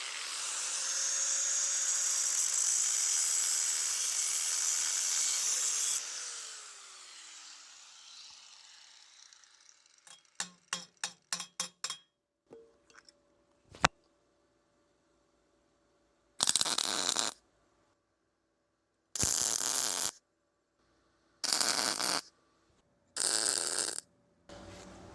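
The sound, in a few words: MIG welder in synergic mode on 110 volts welding trailer hitch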